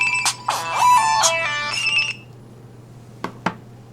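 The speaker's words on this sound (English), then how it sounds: "And my phone's ringing." Phone ringtone playing a short bright melodic phrase with a steady low hum underneath, then cutting off, followed by two brief clicks; no talk during it.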